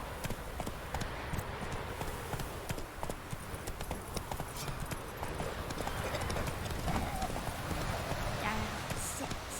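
Roach, Geralt's horse in The Witcher 3: Wild Hunt, trots along with a steady, fairly quiet clip-clop of hooves under a dense bed of ambient game sound and some speech.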